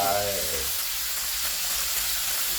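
Stir-fried morning glory sizzles loudly in a hot pan after oyster sauce is poured in, a steady, dense hiss that follows a brief voice at the start.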